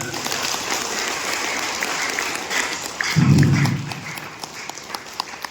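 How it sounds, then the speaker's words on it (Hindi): Audience applause at a Hindi yoga and healing camp in a Lions hall: a steady broadband patter of clapping throughout, swelling briefly near the end with a low rumble, then thinning to scattered claps. "अच्छा लगा हो तो एक बार ताली हो जाए"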